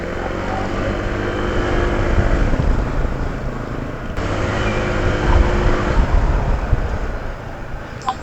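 A Honda ADV160 scooter rides along the road, its steady engine drone mixed with rushing wind noise that rises and falls slightly, close and continuous throughout.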